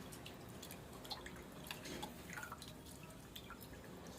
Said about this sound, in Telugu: ఫస్ట్ అయితే చింతపండు వాటర్ని పోసుకోవాలి.